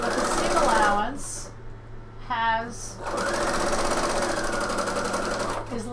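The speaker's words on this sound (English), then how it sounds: "It doesn't matter which direction you sew from." A sewing machine stitches a piped black leather edge onto a bomber jacket, running in steady whirring bursts that stop and restart, close and loud, while someone talks over and between them.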